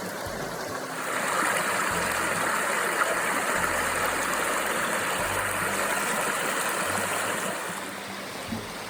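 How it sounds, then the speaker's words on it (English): A creek flows beside a hiking trail on the Pinhoti Trail, giving a steady, broad rushing murmur that stays even for about nine seconds. The sound is fairly close, with no talking over it. "The trail runs right beside a creek. I'll be quiet so you can hear it."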